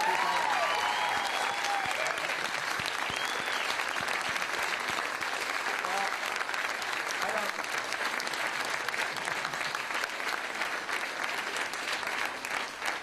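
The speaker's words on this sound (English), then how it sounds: "Let's hear a round of applause for all of you." Audience at a social innovation pitch event gives a long, steady round of applause, dense clapping from a full room that holds for over ten seconds, with a voice briefly over it at the start.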